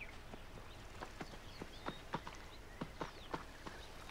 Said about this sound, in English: That better be my horse. I think that's my horse.